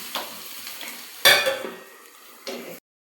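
Curry leaves fry in a pan with a bright sizzle, broken by stirring scrapes and a sharp metallic clatter partway through, then a final scrape before it cuts off.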